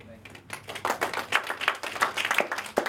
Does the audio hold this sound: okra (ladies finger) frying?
no